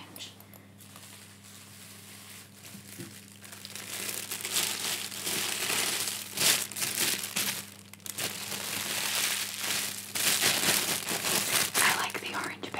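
Crinkly orange paper is folded and wrapped around wooden pyrography bookmarks, a close, continuous rustle and crunch that swells and fades in waves as the paper is handled.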